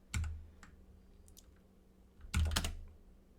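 Keystrokes on a computer keyboard typing a short cd command, a few distinct clicks, then a pause and a sharp cluster of two or three louder taps, close up over a quiet background.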